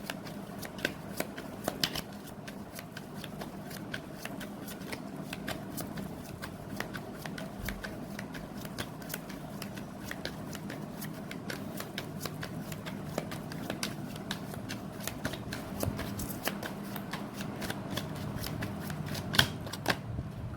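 Tarot cards being shuffled by hand, a long run of quick crisp riffling clicks and flutters, close and steady, with occasional sharper snaps.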